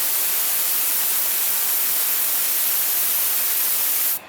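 Spray primer on a plastic model kit: a continuous hissing spray, steady and close, running unbroken for several seconds before cutting off abruptly at the end.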